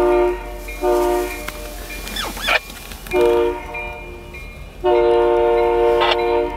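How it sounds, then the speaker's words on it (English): A loud train horn blares in several long blasts separated by pauses, over the rumble of a passing train, with a brief squeal midway. "Yes, we get it, you're a train."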